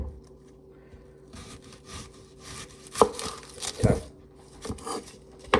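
Knife chopping through an onion on a worn kitchen counter while preparing onion rings, a few separate thuds and cuts with light scraping between them, close and fairly quiet, with one brief spoken word.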